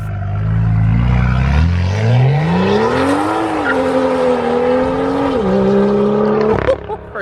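A BMW F87 M2 pulls away hard on a canyon road, its engine note climbing loud and close through gears with a brief dip at a shift, then fading slightly at the end.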